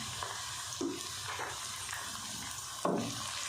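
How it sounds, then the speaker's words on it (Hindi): Vegetables for aloo gobi sabzi frying steadily in a pan, a continuous soft sizzle with a few brief stirring scrapes, close and fairly quiet, with no talking. "एक से 2 मिनट इसको फ्राई करते हैं।"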